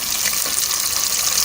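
Chopped onions fry in about half a cup of hot oil while browning to golden for a Punjabi red bean curry, giving a loud, steady, close sizzle with no voices.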